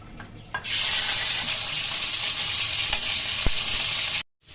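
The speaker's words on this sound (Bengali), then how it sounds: "আগে মাংসটা একটু ভাজি করে নিই" Loud, continuous sizzling of meat frying in a hot pan, with a few faint clinks partway through before it stops suddenly.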